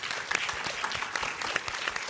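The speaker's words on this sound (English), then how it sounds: "Another round of applause for our panelists, please." Student audience at a campus panel event applauding the panelists, a continuous patter of many hands clapping with a few crisper claps standing out, fairly soft and steady, with no speech over it.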